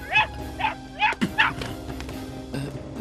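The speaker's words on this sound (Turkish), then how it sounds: "Bu köpek sesi buradan mı geliyor?" A dog barks in a garden in a short, rhythmic burst of four or five clear yips and barks at moderate distance, followed by quieter whimpering sounds.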